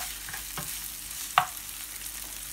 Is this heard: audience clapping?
no